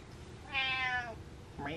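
A cat lets out a clear, close meow, then starts a second rising meow near the end, with a quiet indoor background.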